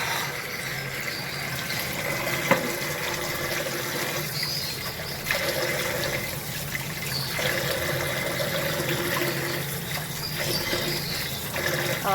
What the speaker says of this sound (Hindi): इसको वो अच्छे से खुले पानी के साथ वॉश कर लेंगे